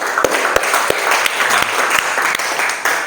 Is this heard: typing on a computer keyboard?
no